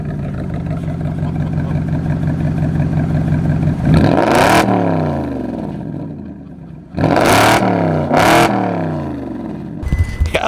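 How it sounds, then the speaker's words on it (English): A Maserati's exhaust revs hard at a supercar dyno day, two or three loud rising blips over a steady idle, each swelling sharply and then falling away, close up and clear. "I think that Maseratis obviously have the best exhaust sound."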